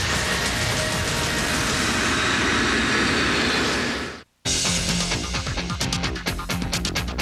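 A KLM Boeing 747 takes off at full throttle on the runway at Tenerife, a loud, steady engine roar that cuts off abruptly and then resumes with rougher, rumbling noise.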